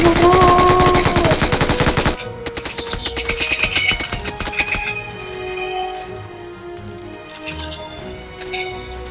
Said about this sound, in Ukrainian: Потім взяти автомат і стріляти